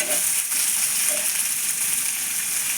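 A ridge gourd chutney mixture of onion and green chilli is stirred once as it fries in a pan, giving a soft, even sizzling hiss that runs without pause and with no talking.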